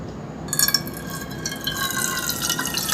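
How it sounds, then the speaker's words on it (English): Water poured into a cooking vessel, starting after a brief quiet moment and then splashing and filling continuously at close range, a bright steady trickling stream without any voices. "I'm putting water in this cooking vessel"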